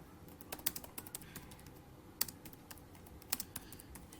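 Soft keystrokes on a computer keyboard while typing a document in MS Word, irregular clusters of faint clicks with sharper taps now and then in a quiet room.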